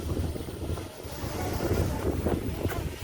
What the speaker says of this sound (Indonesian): Ini anginnya kenceng banget.